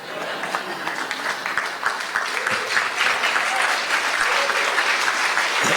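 Sustained applause from a large convention audience at a labor gathering, steady dense clapping that swells slightly and carries on alone without talk.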